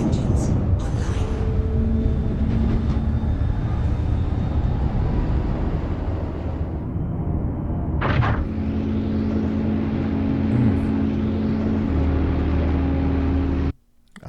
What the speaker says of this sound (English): So let's go ahead and power this thing on and see what we can do about mining and show you that mining laser. Engines online.